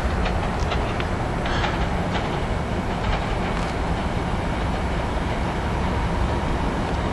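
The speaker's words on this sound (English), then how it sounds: "Here we got SEPTA train 584 to Doylestown coming in." SEPTA commuter train 584 to Doylestown, Silverliner IV railcars, pulling in with a steady loud rumble and wheel noise, with faint clicks of the rails over the first seconds.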